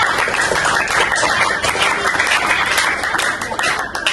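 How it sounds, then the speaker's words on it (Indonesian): Sustained applause from a sixth-grade class, steady and fairly loud throughout, with dense clapping filling the whole stretch. "Tepuk tangan untuk Bapak"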